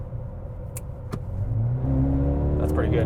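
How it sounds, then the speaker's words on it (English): A 2021 Mercedes-AMG GLA35 floored in comfort mode, the engine note rumbling low and then climbing in pitch and loudness as it pulls hard, with people talking over it. "But what if we put it into comfort, got it out of manual, and then floored it?"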